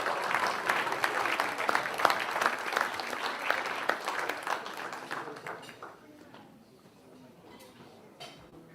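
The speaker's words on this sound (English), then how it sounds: "Big round of applause to Katrina." Audience applause at an awards event, with a loud, dense burst of clapping for around five seconds that then thins and fades into scattered claps and room murmur.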